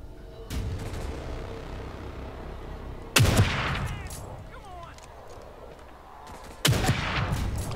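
Gunfire in the survival horror game The Evil Within 2, two loud booming shots spaced several seconds apart over a steady noisy game background.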